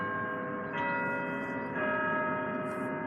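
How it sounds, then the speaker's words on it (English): Church bells ring out in a steady, sustained peal, their layered tones holding on with a slight swell midway, fairly close and without any voices. "The bells are ringing."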